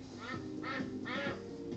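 Ducks quack loudly nearby in a quick series of three raspy bursts, several birds calling over one another.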